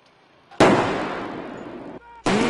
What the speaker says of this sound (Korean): 전차에서는 포탄이 발사되고 발칸포에서는 근접한 적을 섬멸하기 위한 총탄을 쏟아냅니다